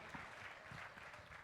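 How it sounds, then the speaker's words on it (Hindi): Brief, fairly distant audience applause at a Holi bhajan performance, a dense patter of clapping for the accompanying musicians lasting about a second and a half. "एक बार जोरदार तालियां मेरे साथी"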